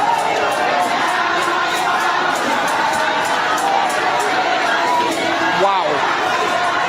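A large street protest crowd roars and cheers continuously, with many overlapping shouts and chants forming a dense, loud wall of voices close by, steady throughout with a brief louder swell near the end.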